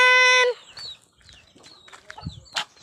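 A short bird call opens, followed by soft scattered clucks and rustling from nearby fowl, with a sharper squawk near the end.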